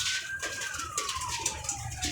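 A pigeon gives a short low coo amid bird chatter in a loft, with a faint high whistle-like tone sliding downward over the top; nearby and moderately loud, no speech.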